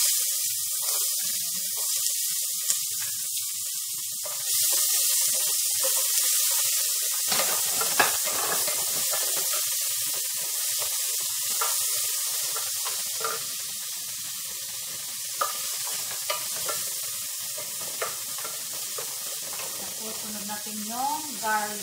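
Onions fry in a pan for kabsa laham, a steady bright sizzle with scattered crackles and scraping stir sounds throughout, while someone talks softly over it at times.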